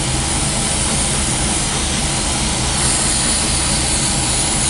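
An airbrush spraying a fine paint mist at about 30 psi onto a 1/48 scale Academy Raptor model: a constant, loud, close hiss of air with no breaks and no talking.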